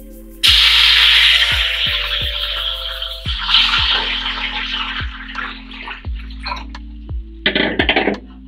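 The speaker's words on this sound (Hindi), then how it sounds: "अब मैं इसमें डालूंगी 5 गिलास पानी।" Water from glasses being poured into a pot of oil-fried whole spices for Shahjahani pulao, a loud gushing splash that repeats in bursts with short gaps and pot clinks.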